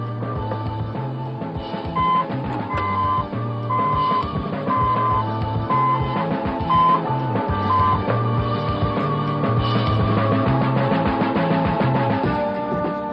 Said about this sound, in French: Je peux faire le test alarme.